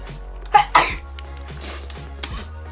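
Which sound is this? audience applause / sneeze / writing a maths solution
sneeze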